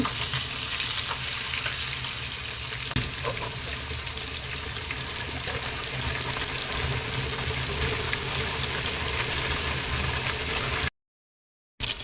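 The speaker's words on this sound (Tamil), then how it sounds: "இப்போ ஒரு பக்கம் வெந்துருச்சு, நம்ம திருப்பி விட்டுக்கலாம்" Fish frying in a pan for a Tamil-style fish fry, a continuous close sizzle with fine spattering crackle and an occasional brief clink, steady throughout before cutting out near the end.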